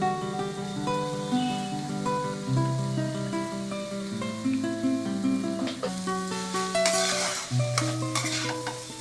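Chicken sandwich filling, seasoned with sugar and black pepper, is stirred in a frying pan with a soft scraping and sizzle that rises toward the end, partly buried under steady tonal background music.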